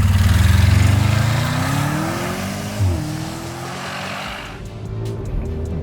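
An Audi RS Q8 SUV launches hard with launch control, its engine roaring loud and close from the cabin, revs climbing through a gear change before settling into a steady high drone.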